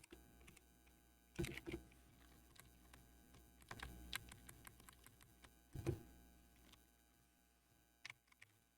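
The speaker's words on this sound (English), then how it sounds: "Do you guys like keyboard sounds?" Quiet clicking on a computer keyboard, with irregular key taps and a few louder clacks spread over a low background, and no voices.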